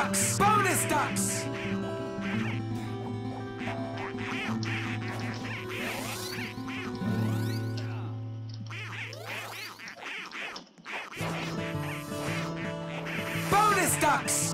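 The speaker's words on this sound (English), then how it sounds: "Bonus ducks! Bonus ducks!" Ducks quack repeatedly in the Roblox game Survive the Disasters 2, bursts of quacking layered over busy game music and effects, with a brief drop to near quiet midway before the noisy din returns.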